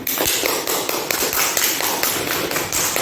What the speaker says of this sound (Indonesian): Berikan aplaus kepada temannya.